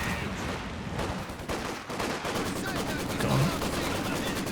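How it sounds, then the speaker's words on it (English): Rifle volley fire rattles through a Company of Heroes 2 4v4 battle, with sharp overlapping shots amid continuous combat noise, while someone briefly talks over it. "Volley fire. Only got 2 rifles shooting as well because of the sweeper."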